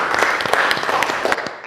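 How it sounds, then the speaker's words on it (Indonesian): A classroom of students claps, loud and close, with dense irregular hand claps for the whole short burst. "Ya, tepuk tangan untuk saya."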